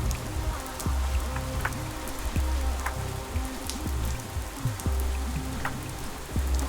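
Steady rain in the Pathologic 3 video game, a dense even hiss of falling drops with low musical tones underneath, continuous throughout with no speech.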